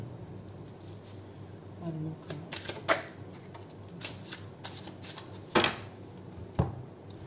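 Angel and Ancestors oracle cards are shuffled in a quiet room, giving a few soft riffling and slapping bursts with brief pauses between them, fairly close and low in level.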